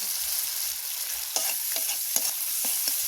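Chopped tomato and flour stirred in a frying pan for a fish roe curry, with a steady sizzle under a few soft scraping strokes of a spoon, close and alone.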